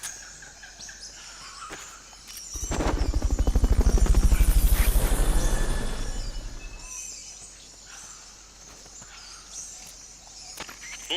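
A helicopter in the video game Metal Gear Solid Peace Walker sweeps in, its rotor chop swelling to a loud pulsing peak and then fading away, with chirping insects and bird calls behind it.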